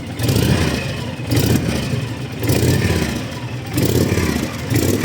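A 2007 Honda VTX 1300 Custom motorcycle engine with original quiet exhausts rumbles close by, revving up and easing off in repeated swells, loud and alone.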